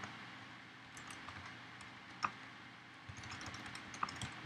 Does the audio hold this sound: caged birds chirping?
no